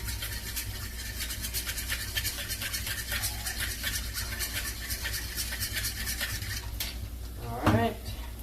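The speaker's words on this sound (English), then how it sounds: "Whisk this up real quick" Brisk whisking in a bowl while making menudo and banana split lumpia, a steady rapid scraping clatter that runs close and continuous, ending with a brief louder knock.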